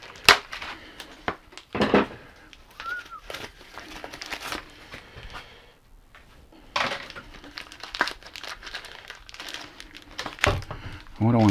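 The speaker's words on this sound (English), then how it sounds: "What I want to do is get all the packaging off of these." Plastic packaging crinkles and tears in bursts of close, crackly rustling as it is stripped from new bicycle handlebars, with pauses and quiet handling noise between the louder grabs.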